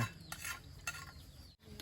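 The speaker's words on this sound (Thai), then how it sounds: "ยายเนี่ยจะเคี่ยวหัวกะทิก่อนใช่ไหมครับ" Coconut cream being simmered and stirred in a wok over a wood-fired stove in a rustic Thai home kitchen, with a steady soft sizzle and scraping stirring strokes, close and continuous, briefly dropping out near the end.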